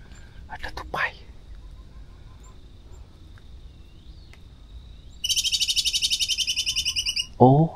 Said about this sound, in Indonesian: Oh, suara tupai itu gitu.